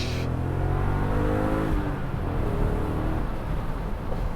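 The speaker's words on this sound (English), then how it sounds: "Hearing this engine with the top down" A BMW Z8 sports car engine, shared with the E39 M5, roars and revs up through the gears with the top down, a strong rising growl with a shift partway through, loud and close.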